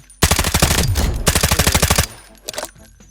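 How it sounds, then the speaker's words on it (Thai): Rapid automatic gunfire while shooting at targets in the Delta Force mobile game: two loud, fast bursts of close shots, each about a second long, then a brief shorter burst after a pause, with no talk. "ยิงปิดเป้าหมายหนึ่งปุ๊บก็มีเป้าหมาย เลื่อนไปแล้วก็ปัดยิงอีกเป้าหมาย"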